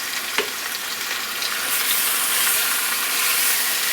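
Ribs browning in a hot greasy skillet over moderate heat, a loud, even sizzle that holds steady and brightens slightly partway through, with one faint tap early on and no voices.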